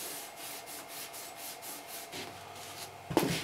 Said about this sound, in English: And I'm not rubbing real hard.